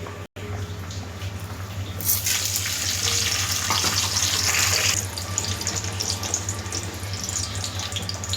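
Dried chillies, cumin seeds and curry leaves are tempered in hot oil, giving a steady sizzle that swells into a loud hissing burst midway and then settles back to a softer frying crackle, with no voices.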